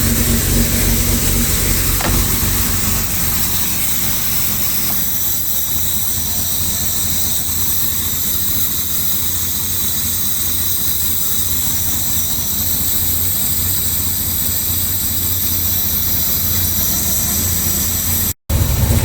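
A cold Series 1 Jaguar XJ6 engine idles steadily with the choke still on, a continuous loud, even drone with a hissing edge that runs throughout, briefly cutting out near the end.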